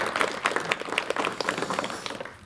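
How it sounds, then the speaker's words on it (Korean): A Korean television studio audience in 1987 applauds to welcome a guest professor onto a talk show. The clapping is dense and steady, with no talk over it. "여러분 박수로 맞이해 주시면 대단히 고맙겠습니다."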